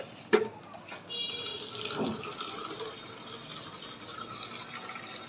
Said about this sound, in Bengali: এই এখন কিছু জল নিয়ে নেই